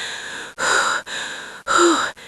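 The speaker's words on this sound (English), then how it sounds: "She is panting heavily." Heavy, rapid breathing, with several loud, ragged breaths in quick succession, close and alone, with no voice.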